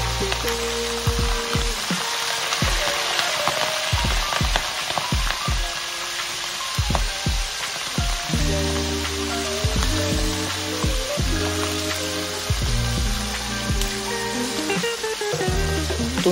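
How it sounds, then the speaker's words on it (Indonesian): Shrimp hit hot oil in a wok and sizzle loudly and continuously, a dense crackling fry with popping bursts throughout, no voices present. "Setelah minyak panas, masukkan udang ke dalam wajan."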